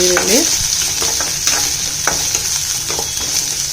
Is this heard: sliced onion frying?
yes